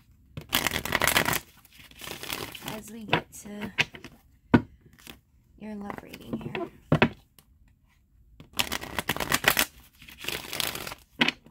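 Tarot cards are shuffled by hand in several short bursts of riffling and papery flicking, close up. Someone talks in between the shuffles.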